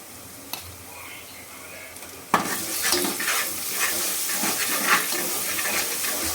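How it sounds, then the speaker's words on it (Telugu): Onions frying in a pan for Andhra Pradesh style mutton curry, a faint hiss that jumps into loud, close sizzling and scraping as they are stirred, continuing steadily to the end. "బాగా బ్రౌన్ కలర్ వచ్చేంత వరకు వేయించుకోవాలి"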